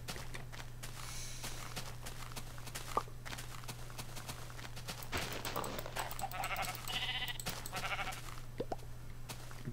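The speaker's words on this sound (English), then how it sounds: "I'm just now finding a sheep." Sheep in the game Minecraft, heard as a few faint, short bleats over a steady low hum, along with soft footstep sounds from the game.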